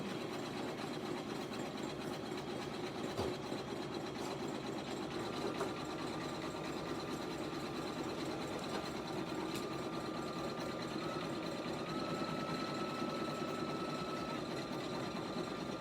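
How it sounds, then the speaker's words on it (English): An embroidery sewing machine satin stitches the bottom edge of a soccer ball split applique, giving a steady, continuous mechanical hum with a fast rhythmic needle pulse throughout, close and unbroken. "we're almost done with the bottom satin stitching"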